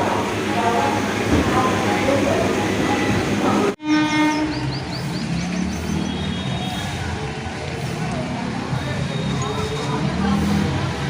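A train near Belur rumbles steadily with clattering wheels, a horn sounds partway through, and a person talks over the noise.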